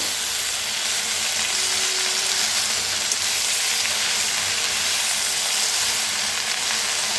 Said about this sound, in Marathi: आता मेथीला जरा मिक्स करूया